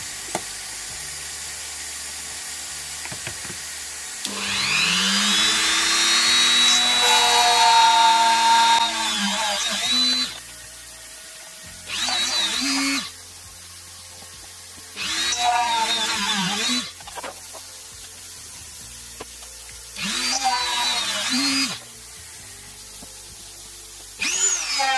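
Power drill drilling out a jet engine fuel rail, heard in several separate bursts: one long whining run followed by three shorter high-pitched drilling spurts with quiet pauses between, no voices.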